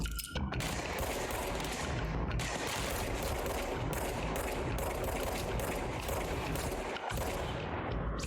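Rapid automatic gunfire in the action video game Control, dense loud bursts rattling almost without pause, with a few short gaps between volleys.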